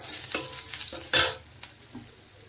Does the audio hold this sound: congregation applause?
no